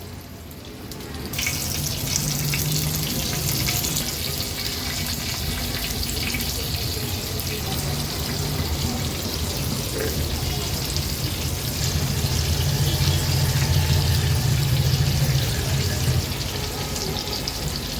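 Rava-coated prawns frying in oil, a loud steady sizzle that swells as prawns are dropped in one by one and holds as a dense, bubbling hiss.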